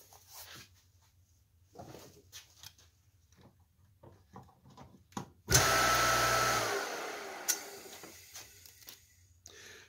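The electric motor of a Craftsman Model 113 table saw starts up after being rewired, a sudden loud whirring surge that winds down gradually, following quiet clicks and handling noises.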